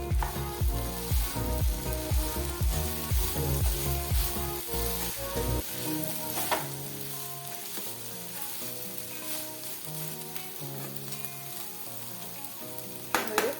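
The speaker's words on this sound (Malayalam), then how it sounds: "നമ്മുടെ മുരിങ്ങക്ക അടുപ്പത്ത് വെച്ചിട്ട് ഒരു മൂന്ന് മിനിറ്റ് ആയിട്ടുണ്ട് നമുക്കിതൊന്ന് തിരിച്ചിട്ട് കൊടുക്കാം" Drumstick pieces for thoran fry in a pan, sizzling steadily while being stirred and turned, with scraping and clattering of the stirring early on and a continuous crackle underneath throughout.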